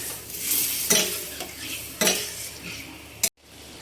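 Chicken for biryani stirred with ginger and garlic water in a sizzling pot, a spoon scraping and clinking in a few distinct strokes over a frying hiss, ending abruptly.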